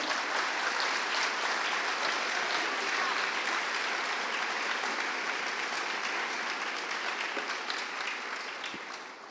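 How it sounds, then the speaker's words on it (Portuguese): A church congregation claps in praise, a dense, loud wash of applause that holds steady for most of the stretch before gradually tapering near the end. "pode aplaudir ao Senhor."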